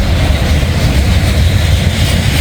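A freight train rolls past on a grade in Northern Kentucky, a loud, steady, close rumble with broadband roar and no pauses.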